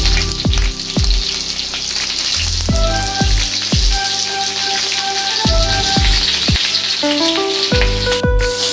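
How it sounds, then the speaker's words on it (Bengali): Pointed gourd pieces fry in hot oil with salt, a loud continuous sizzle broken by sharp metallic clanks of a utensil against the pan several times. "এবার আমি এক এক করে পটলগুলো ছেড়ে দেবো।"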